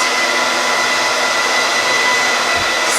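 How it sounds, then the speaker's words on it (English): A hair dryer on its cool setting blows with a steady, loud whooshing roar and a faint motor whine, running continuously and close by. "If your hair dryer has a cool setting, turn on that cool setting"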